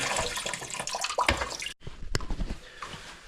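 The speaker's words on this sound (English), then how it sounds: "All the water's going to rush out." Water gushes and splashes steadily from a toilet tank into the bowl during a running-toilet repair, broken by one brief silence before the rushing resumes, close by.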